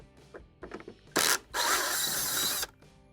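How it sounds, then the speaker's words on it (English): A power screwdriver backing screws out of the back of a Fisher & Paykel dryer's console, with two whirring bursts after light clicks and taps of handling, close by with no talk. "To remove the console assembly, we must first remove the two screws on the back of the console."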